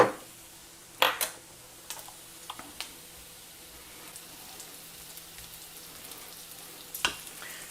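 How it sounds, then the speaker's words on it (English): Bacon, onions and garlic sizzle in a pan on medium heat, a soft steady crackle with a few sharper scrapes and clicks of stirring, close and fairly quiet. "Give the bacon and onions and garlic a stir."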